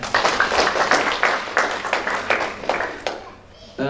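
At a live singing performance event, a small audience claps for the host. The claps are moderate and somewhat uneven and taper off after about three seconds, then a voice begins speaking.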